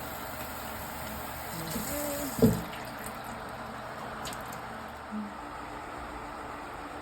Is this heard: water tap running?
yes